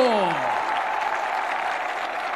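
Steady, dense applause from an arena crowd greeting a fighter's introduction at a flyweight ranking bout, continuous clapping throughout with an announcer's voice trailing off at the start.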